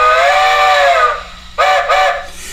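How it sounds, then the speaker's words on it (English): A Crosby 5-inch flat top three-chime steam whistle, played by a SoundTraxx decoder on a model train, sounds one long loud chime blast, then two shorter blasts after a brief pause. "I'm going to use this Crosby 5-inch flat top 3 chime, which is whistle number 10"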